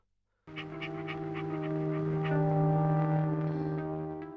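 A dog pants steadily, close and loud, with quick rhythmic breaths over a low sustained drone throughout, no one speaking.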